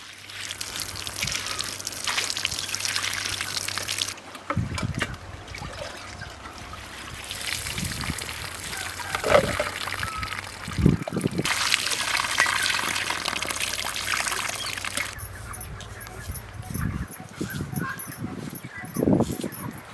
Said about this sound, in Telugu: ఈ కాయగోరాని ను శుభ్రంగా కడుకోవాలి